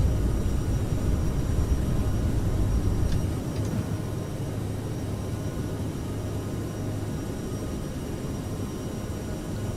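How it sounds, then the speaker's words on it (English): An Aerosoft CRJ regional jet takes off in Microsoft Flight Simulator, its engines a loud, broad roar that eases slightly after a few seconds and holds as a steady rushing drone. "Smooth takeoff, gear up."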